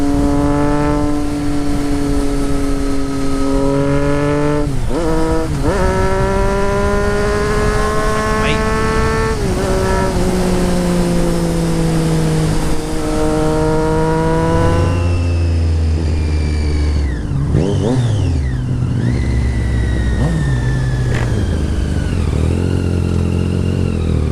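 A Triumph Street Triple fitted with a Racefit Growler straight-pipe exhaust roars loudly on a ride, its engine note rising and falling through gear changes, with a rider's voice briefly audible late on.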